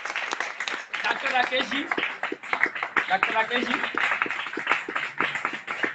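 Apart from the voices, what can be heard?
audience applause at a meeting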